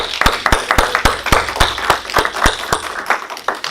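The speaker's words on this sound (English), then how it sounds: "can we give him a round of applause?" Audience applause at a gospel conversation event, heard as a sparse, loud run of individual claps in a quick, fairly regular rhythm, close by and clear over light room noise.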